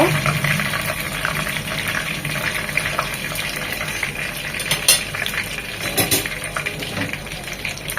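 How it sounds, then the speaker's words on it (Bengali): Steady broadband sizzling of flat chicken chaap pieces frying in oil, continuous throughout with a few louder crackling bursts near the middle and end. "পরের চাপগুলো এভাবে একইভাবে ভেজে নেব"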